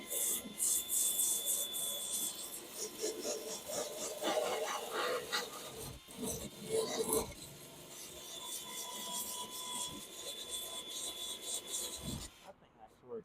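An angle grinder fitted with a 36-grit TSHYA sanding disk working a surface, a continuous harsh rasping and rubbing that swells and eases, with people talking beside it.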